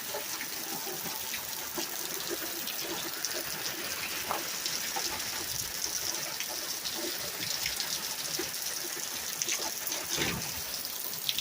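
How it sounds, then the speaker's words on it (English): Heavy rain pours down steadily in Dallas, Texas, a dense continuous hiss with scattered drips and splashes, fairly distant and even in level throughout. "it's raining in Dallas."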